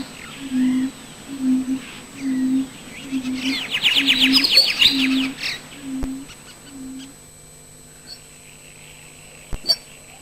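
A button quail calls in a slow series of about eight low, evenly spaced hooting notes, with a brief burst of other bird chatter partway through.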